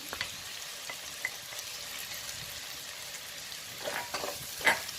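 Ginger garlic paste sautéing in a pan for fish biryani, a soft, fairly faint sizzle with a few sharper stirring clicks and scrapes toward the end, close by, no speech.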